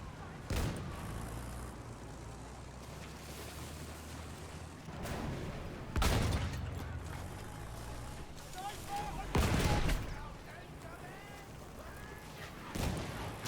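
Mortar and artillery fire in Battlefield 1 booms in about five heavy, separated blasts, mid-distance and fairly loud, over a rumbling battlefield background with talk at times.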